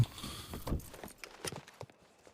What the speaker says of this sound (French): c'est un citoyen avec son cheval